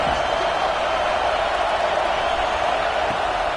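Stadium crowd noise from a PS5 football video game roars as a dense, steady wash of massed voices during a third-down defensive stand, constant and loud throughout.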